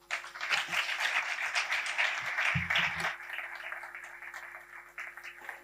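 An audience in a lecture hall at a botanical garden breaks into steady applause to welcome a speaker, a dense sustained clapping that thins slightly toward the end, heard alone without talk.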